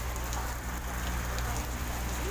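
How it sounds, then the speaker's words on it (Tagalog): Sudden rain patters steadily over a rose garden in Baguio, a dense, even hiss of drops on leaves and surfaces, close and continuous with no voices. "Biglang umulan eh."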